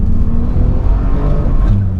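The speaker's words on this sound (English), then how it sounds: "there is a subtle, wow, pop and bang on the overrun." A 2018 Bentley Continental GT's engine drones loud and close through the cabin on the overrun, with only a faint hint of exhaust crackle under the steady roar.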